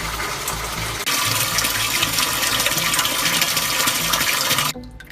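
Freshly made RODI water gushes from an opened valve into a saltwater tank at a mixing station, a loud, steady rushing pour that surges in after a second and stops abruptly near the end.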